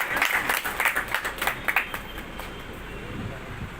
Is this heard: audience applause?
yes